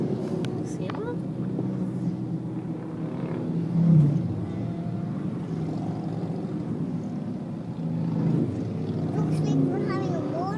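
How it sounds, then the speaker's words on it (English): Motorcycles pass on a road during a motorcycle festival, a continuous engine drone that swells twice as bikes go by, with people talking over it. "Everybody's got to wait for the motorcycles."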